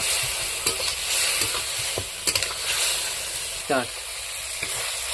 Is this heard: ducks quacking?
no